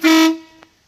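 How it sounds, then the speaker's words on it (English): A custom horn on a 1979 International Harvester Scout Traveler gives one loud, close honk of about a quarter second, then fades. A faint click follows. "Got a custom horn in it."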